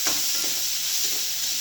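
Black masala frying in a little oil for a chicken masala, a short steady hiss of sizzling fat, close and even, with no voices.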